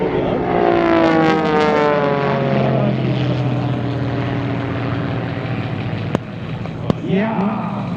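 A Pitts aerobatic propeller plane performs at an airshow, its engine droning loud and steady with a strong, shifting pitch as it passes, and a couple of sharp clicks near the end.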